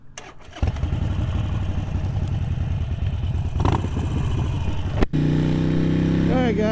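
A Harley-Davidson Sportster bobber with a solo saddle seat starts up and rides, its engine settling into a steady, loud rumble that swells midway and cuts briefly near the end before continuing.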